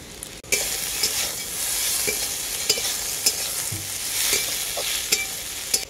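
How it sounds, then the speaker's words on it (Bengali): A ground paste of cumin, coriander and dried red chilli with turmeric is stir-fried with potato and eggplant in a pan: a loud, continuous sizzle broken by regular spatula scrapes and taps, with no voices. "মশলাটাকে আমি খুব ভালো করে আলু আর বেগুনের সাথে কষিয়ে নিলাম।"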